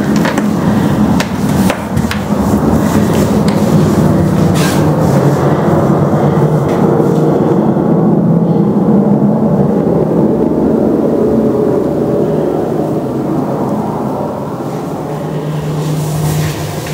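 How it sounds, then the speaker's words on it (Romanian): An airplane passes overhead outside an abandoned manor, a loud continuous rumbling roar that fills the whole stretch and eases slightly toward the end, with some knocking at the start. "Acum trece un avion."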